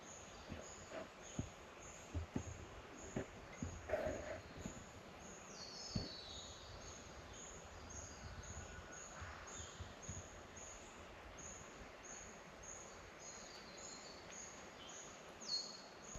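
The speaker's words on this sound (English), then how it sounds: "you can hear the birds just singing in the background" High, thin bird calls chirp repeatedly at a distance in rainforest on K'Gari (Fraser Island) over a quiet, steady background hush, with a few soft knocks and rustles nearby.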